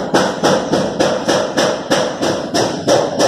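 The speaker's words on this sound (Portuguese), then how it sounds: "deixa eu colocar o parafuso pra vocês entenderem melhor" A screw driven into a fiber cement board with a power driver, heard as a loud, steady run of repeated thumping pulses about three per second, close up and with no talking.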